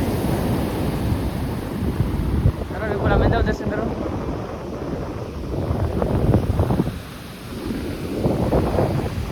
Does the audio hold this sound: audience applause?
no